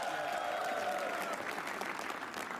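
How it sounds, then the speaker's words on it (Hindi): An audience at a comedy roast show claps for a comedian, a dense, close burst of applause that holds steady and thins slightly toward the end. "ओनकार के लिए ताली बजाओ एक बार सब लोग बजाओ"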